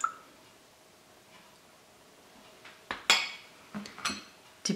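Eggs go into a mixing bowl for Greek koulourakia Easter biscuit dough, giving a few sharp clinks and knocks against the bowl, near and loud, after a quiet stretch.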